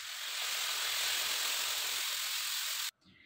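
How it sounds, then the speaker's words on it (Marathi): Water poured into a hot pan for zunka, a steady, quiet steamy hiss that runs for nearly three seconds, then stops abruptly. "आता यामध्ये पाणी टाकते।"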